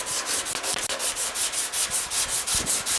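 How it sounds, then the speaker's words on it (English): Body filler on a GTO restomod car door panel is sanded with a block, giving close, rhythmic rasping strokes in an even back-and-forth pattern with no speech. "So I'm going to keep sanding on this"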